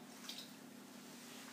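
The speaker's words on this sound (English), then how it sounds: "I'm going to do a half of a cup of water" Half a cup of water is poured into a stainless steel pan while making stewed berries with sugar: a faint, steady, even wash of liquid noise over a low background hum, with no talking.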